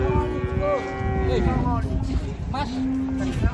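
A large cow moos loudly and repeatedly while being unloaded from a truck at a busy market, with long drawn-out lows over engine rumble and background chatter; people talk nearby.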